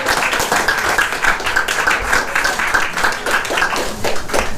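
Church congregation applauding together at a Portuguese-language worship service, a steady, dense wash of clapping filling the whole moment without a break, with faint voices and a sustained tone underneath.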